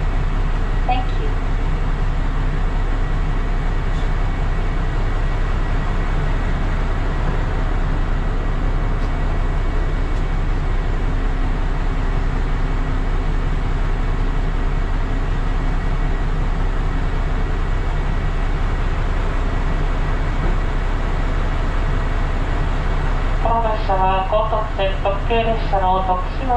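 A JR Shikoku Kotoku Line Uzushio limited express train, Takamatsu to Tokushima, runs with a constant low rumble throughout, a voice speaking over it and a brief run of bright tones near the end.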